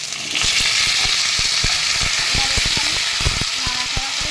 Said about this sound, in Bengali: নাড়াচাড়া করে খুব ভাজা ভাজা করে নেবো, একটু কষিয়ে নেবো